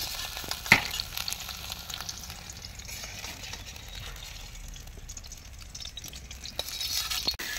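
Sliced brinjal sizzling in hot oil in a pan, a steady soft frying hiss with occasional stirring clinks, cooked outdoors by a riverside.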